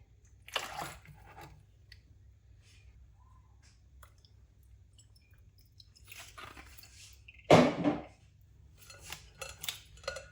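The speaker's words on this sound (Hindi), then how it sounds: "अब हाथों से फिर हम ऐसे नीचे प्रेस करते जाएंगे, साथ मैश करते जाएंगे।" Fruit pressed and mashed by hand in a strainer set in a glass bowl of water, giving a few brief, wet squishing bursts separated by near silence.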